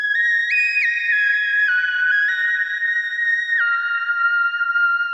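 A bright, sustained Minimoog synthesizer tone glides and steps between pitches, sounding alone, steady and fairly loud with a whistle-like edge.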